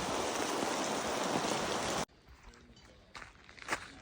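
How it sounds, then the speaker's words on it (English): Steady, dense rain pours down for two seconds, then cuts to a much quieter scene with light patters and a few soft knocks. "Bit of rain on our return"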